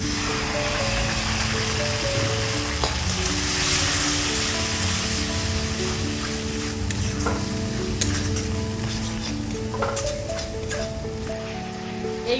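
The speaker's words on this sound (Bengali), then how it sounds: "বাটা মশলার মধ্যে ছিল আদা রসুন কাঁচা লঙ্কা ধনে জিরে মশলাটাকে একটু কষিয়ে নিলাম" Ground paste of ginger, garlic, green chili, coriander and cumin, with turmeric and Kashmiri chili powder, sautés in a pan for a taro and fish curry: a loud, steady sizzle and hiss with scraping stirs throughout, no talking.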